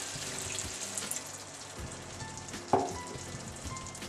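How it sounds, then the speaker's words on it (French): Water poured into a pan of spiced courgette kofta lands with a splash and a sharp burst of sizzling over steady frying hiss, close by and alone, with no talk. "Ensuite, je mets de l'eau."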